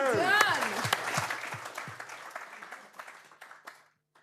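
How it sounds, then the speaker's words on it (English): A conference audience breaks into applause, clapping that swells and then tapers off over a few seconds, with a presenter's voice rising over the start before the claps thin out into scattered final hits. "Round of applause for the audience."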